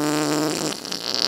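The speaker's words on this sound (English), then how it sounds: "That's gonna be a loud fart." A whoopee cushion prank hidden under a gaming chair lets out one loud, close, buzzing fart noise that stretches for about a second and then trails into rougher noise.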